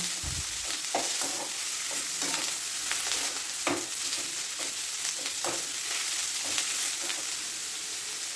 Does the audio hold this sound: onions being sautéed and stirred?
yes